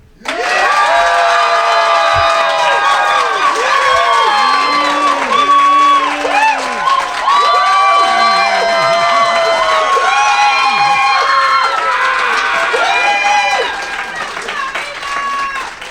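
At an annual debate on whether the eagle or the turkey is more American, the audience bursts into loud clapping, cheering, whoops and shouted calls. The noise swells for about fourteen seconds before it begins to fade.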